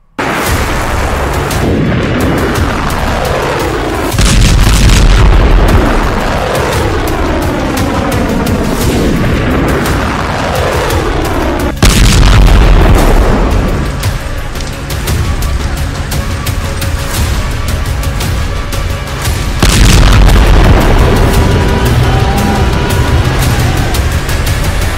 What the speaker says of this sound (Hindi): इजराइल पर हिजबुल्लाह की फादी मिसाइल गिरी